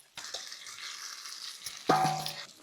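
Curry leaves, green chilli and crushed peanuts sautéing in hot oil, a soft sizzle that starts abruptly and runs on, then swells louder with a fresh burst of frying near the end.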